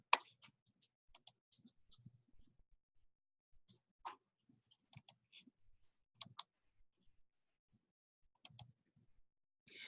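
Faint, sparse clicks from a computer mouse during work in a programming environment, single and double clicks scattered irregularly against quiet background with soft incidental noises.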